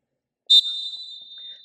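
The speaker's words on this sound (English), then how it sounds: "the referee blows his whistle with the straight hand" Basketball referee's whistle at a game-clock signal, heard as a single sharp blast that rings out as a steady high tone for over a second against near silence.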